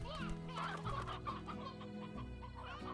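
Chickens clucking in a video game, several short bird clucks and chirps over steady game music, close and fairly quiet.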